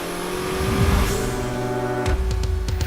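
A Corvette's engine revs hard while accelerating along winding roads near the Nürburgring in Germany, a loud, close, sustained roar with a shift in pitch partway through and a few sharp transients near the end.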